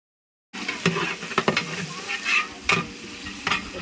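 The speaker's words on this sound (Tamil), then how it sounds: "சின்ன வெங்காயம் நல்லா வதங்கணும்" Small onions sizzle and fry in hot oil for mutton, with intermittent stirring clatters against the pan after a brief silent start. Close and steady.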